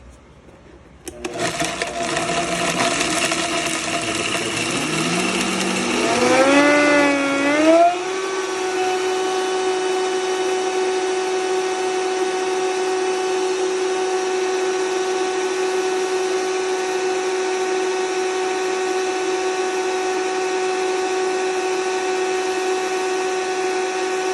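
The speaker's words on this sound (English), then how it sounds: "going to grind it until I see it's turned into this beautiful powder" An electric grinder spins up with a rising whine, then settles into a steady high drone while it blends dehydrated candied pears and lavender blossoms into powder. It runs loud and continuous with no talk.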